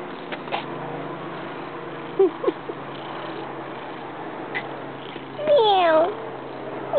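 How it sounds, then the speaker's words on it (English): A begging cat gives one drawn-out, close meow near the end, after a few faint, short squeaky sounds against a quiet indoor background. "The cat."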